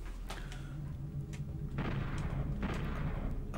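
Pistol gunfire in the video game DOOM 64, a few sharp booming shots over a low, rumbling game backdrop, with a heavier burst of blasts in the later part.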